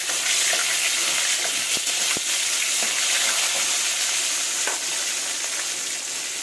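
Tomatoes with salt fry in a hot pan, giving a steady, close, loud sizzle with a few soft stirring clicks and no talk over it.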